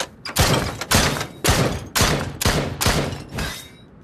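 Shots at practice targets in Drop Dead Dual Strike: seven loud, evenly spaced gunshots, roughly two per second, each ringing briefly before the next, heard alone.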